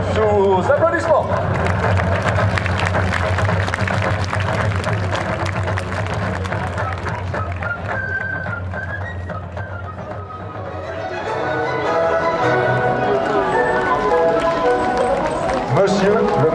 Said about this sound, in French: Le sergent Watson sous applaudissements.